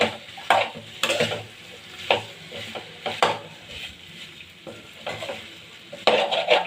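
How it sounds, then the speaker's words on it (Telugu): Flat beans are stirred into potatoes in a pan: irregular bursts of scraping and clinking from a spoon against the pan, roughly one per second, over a soft frying sizzle, with no talking. "చిక్కుడుకాయ వేసుకొని ఇలా కలిపేసుకుంటున్నాను"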